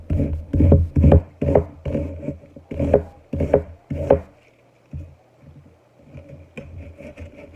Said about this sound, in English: we're going to chop our other half of the onion